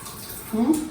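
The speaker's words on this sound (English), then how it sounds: "You drain off the excess water." Excess soaking water is drained off rice in a kitchen while making biryani. A brief, close splash and pour of water swells near the end of a one-second moment.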